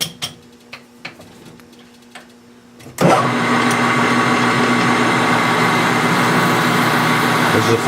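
A 500 drill boring into 7075 T6 aluminum on a small lathe, starting after a few light clicks with a loud, steady machine whir and grinding drone that holds constant to the end.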